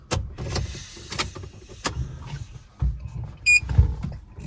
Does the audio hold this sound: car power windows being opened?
yes